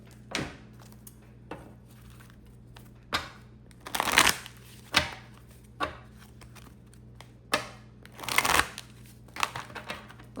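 Tarot cards are shuffled by hand in irregular bursts, with sharp riffles and soft slaps of the deck close by against a low background hum.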